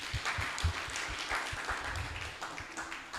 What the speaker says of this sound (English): Clapping for me at least, Professor.